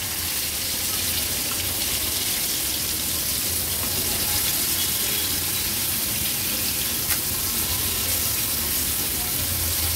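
Pieces of tuna sizzle on a hot tawa over a high flame, a steady, dense frying hiss that holds evenly throughout, near and fairly loud with no talk.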